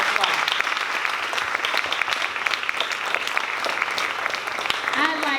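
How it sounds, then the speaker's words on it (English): A school audience at a Black history show claps in a sustained round of applause, dense and steady throughout, with faint voices mixed in. "Let's give them a round of applause."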